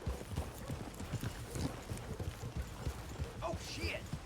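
Horse hooves clip-clop at a steady, rhythmic trot in the video game Red Dead Redemption 2, moderately faint, with a few other game sounds around them.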